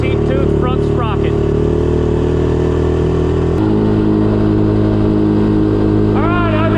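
Honda TRX 450R ATV engine running steadily on the road with a 13-tooth front sprocket, a loud close droning exhaust that shifts pitch midway as it accelerates, with someone speaking briefly over it.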